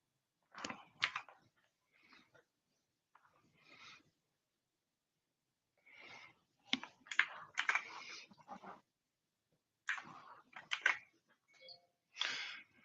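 Hotkeys pressed on a desktop computer keyboard while drawing tattoo designs, quiet clusters of crisp key clicks in irregular bursts separated by silent pauses.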